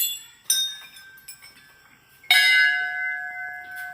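Temple bells hung by devotees clink and ring in two bright strikes, the second louder, each leaving a sustained metallic tone that rings on and slowly fades.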